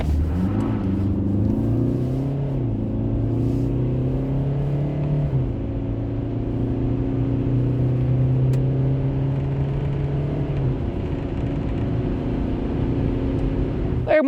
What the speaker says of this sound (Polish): do pierwszej setki według deklaracji producenta powinniśmy rozpędzić się jakoś w 12 sekund